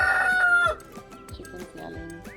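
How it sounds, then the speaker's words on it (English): Backyard chickens on a sunny day: a rooster crows loudly up close, then hens cluck in short, overlapping bursts as the crow fades. "Chickens yelling."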